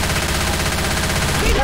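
Rapid automatic gunfire in the co-op zombie shooter Left 4 Dead 2, a dense, loud, evenly spaced stream of shots that continues unbroken for the whole short burst.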